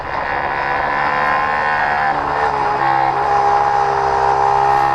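Race car engine held at steady high revs with a slight pitch drop as it downshifts into a corner before rolling back onto the throttle, loud and continuous throughout with no talk.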